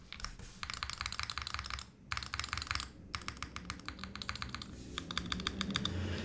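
Clacky typing on a mechanical keyboard with stock stabilizers, quick bursts of close keystrokes separated by brief pauses, fairly quiet with no voices.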